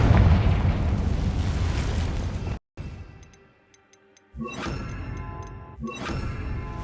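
Confringo fire spell blast in Hogwarts Legacy, a loud sustained rumbling explosion that cuts off abruptly, then quiet ticking and two further heavy bursts.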